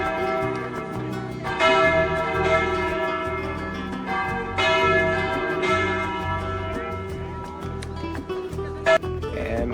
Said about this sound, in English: with the Almudena Cathedral directly next to it, where we even got to hear some bells chime